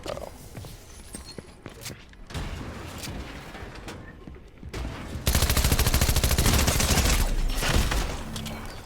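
Submachine gun fire in a video game, with scattered shots and movement at first, then a loud, fast, continuous automatic burst lasting several seconds before it tails off.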